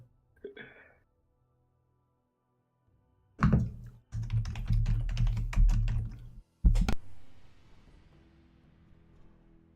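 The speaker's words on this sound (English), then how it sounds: "I'm just typing to you there." Typing on a computer keyboard during a livestreamed C&C Zero Hour match: a dense, close burst of rapid key clacks and thunks over several seconds, then a short pause and a fainter tail.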